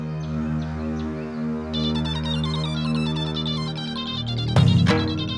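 A phone ringtone plays in a steady, melodic repeating pattern at moderate volume with no voices, broken near the end by a short, loud burst.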